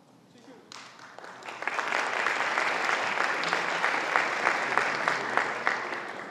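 An audience of young people gathered to meet the Turkish parliament speaker bursts into applause after a quiet start, dense sustained clapping swelling quickly and holding steady to the end, with faint voices beneath.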